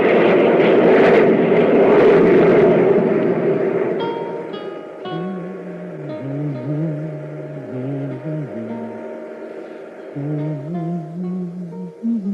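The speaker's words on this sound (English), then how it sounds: "Increase the jet drive on all jets." Roaring spaceship jet drive from a science-fiction radio drama, a broad loud rumbling rush for the first few seconds that fades under swelling orchestral music carrying the rest.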